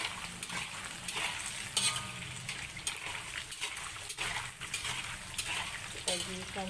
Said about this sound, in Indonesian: Goreng sampai garing.